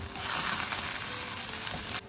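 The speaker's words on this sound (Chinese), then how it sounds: "再把捞出的香椿啊放入开水中给它烫一下" Toona sprouts dunked into boiling water for blanching, giving a steady close-up bubbling hiss that holds constant and cuts off abruptly at the end.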